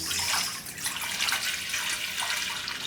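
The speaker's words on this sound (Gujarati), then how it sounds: "હવે આમાં આપણે મૂકશું પાણી ગરમ" Hot water pours steadily into a pot in a continuous splashing rush, close and fairly loud, with no voices.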